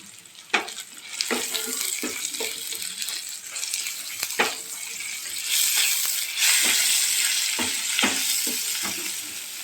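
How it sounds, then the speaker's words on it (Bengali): Chopped onions frying in oil for a Bengali puti fish curry, a continuous close sizzle with repeated scraping stirs and clinks, growing denser toward the end. "পেঁয়াজটা আমরা একটু ভেজে নেবো, হালকা করে ভেজে নেব"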